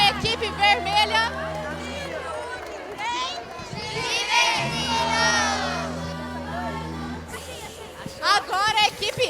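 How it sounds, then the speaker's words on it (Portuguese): A children's green team shouts its battle cry together, a loud crowd of young voices cheering and yelling in bursts with chatter between. "E aí o grito de luta da nossa equipe verde."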